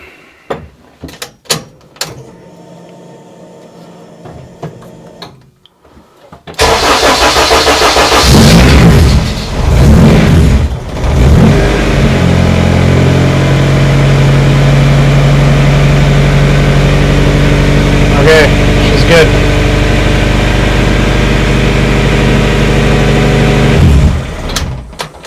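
A Honda K20A2 engine starts after a few quiet clicks and knocks, catching with a loud burst of cranking and revving, then settling into a steady, loud rough idle that runs for nearly twenty seconds before cutting off.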